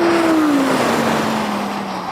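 An Audi RS6 GT accelerates hard off the line in a drag race, its engine note climbing steadily in a loud, continuous roar heard from inside the car.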